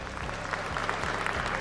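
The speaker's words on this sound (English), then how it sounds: "can I please get a round of applause for Cena move ahead?" A crowd at a chess esports tournament stage claps steadily, a dense, sustained patter of applause with faint voices mixed underneath.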